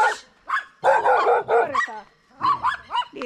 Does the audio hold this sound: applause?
no